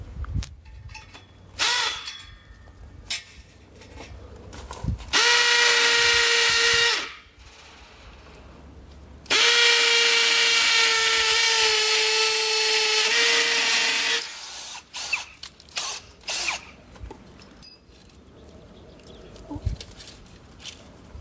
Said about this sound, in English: Go ahead and pre-drill my hole.